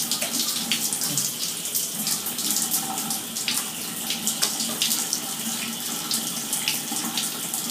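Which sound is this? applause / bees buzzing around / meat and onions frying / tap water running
tap water running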